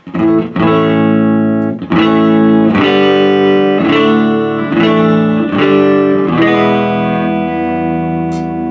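Distorted electric guitar chords ring out through a warm 1951 Fender Pro tube amplifier, strummed in a steady rhythm with sustained, gritty tones and no talking.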